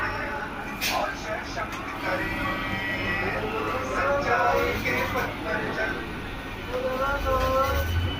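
An express train on the Tarakeswar line starts moving off from a station, a steady low rumble of rail cars with faint squeals and clanks building slightly toward the end, with people talking nearby.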